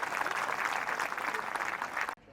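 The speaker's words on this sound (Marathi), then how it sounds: "त्या सर्वांसाठी एकदा खऱ्या अर्थानं टाळ्या झाल्या पाहिजे" An audience at a religious gathering honouring a Mahanubhav dharma trust claps together in loud, sustained applause that cuts off abruptly near the end.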